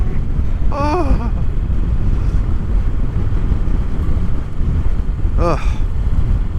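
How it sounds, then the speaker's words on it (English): Loud, relentless wind roars and thumps across the microphone outdoors in a constant dense rumble, with a couple of brief voice sounds rising over it. "It is freaking windy out today."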